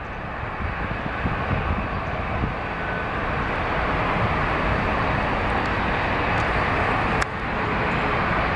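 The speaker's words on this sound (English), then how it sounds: "a special livery United, as you can see right there" A United airliner in special livery passes at a Seattle airport, a loud, steady broadband jet roar that stays strong throughout without talk.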